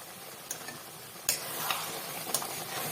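Water poured into a pan of sautéed chicken for mustard chicken, a brief burst of sizzling and hissing with a few clinks, close by and without speech.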